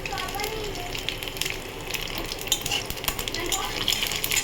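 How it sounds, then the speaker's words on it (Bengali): Whole cumin seeds frying in hot oil in a pan while cooking paneer gravy: a steady, close crackling sizzle with scattered sharp pops and occasional utensil clinks throughout. "এই তেলের মধ্যে আমি গোটা জিরে দিয়ে দেবো"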